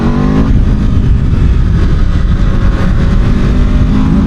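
A 2026 Aprilia RSV4 1100 Factory sport motorcycle roars hard under acceleration, loud and continuous with wind rush mixed in, its engine note climbing and rasping close to the rider.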